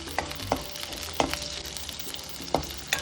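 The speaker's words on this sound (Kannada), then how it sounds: "ಸ್ವಲ್ಪ ಕೆಂಪಗಾಗೋವರೆಗೆ ಫ್ರೈ ಮಾಡ್ಕೊಳ್ಬೇಕು." Green chilies and garlic sizzle in oil in a pan while cooking the fenugreek leaf palya for akki rotti, a steady crackle punctuated by several sharp clicks of a spoon stirring against the metal, close and moderately loud.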